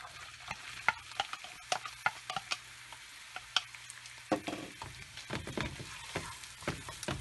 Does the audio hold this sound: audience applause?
no